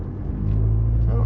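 A 4-wheel-drive vehicle rolls over an eroded, rutted dirt road near the Anthony Lakes area trailheads, its engine a steady low rumble that builds slightly, close by with no talk.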